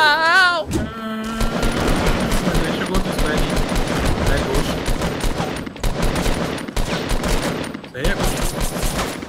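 Rapid automatic gunfire in Fortnite, loud and nearly continuous bursts after a short tonal opening, with brief gaps between volleys.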